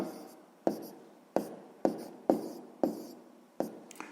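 A pen scratches on paper as a fraction is written, in short bursts of strokes with a sharp tap at the start of each, about six or seven in a quiet room.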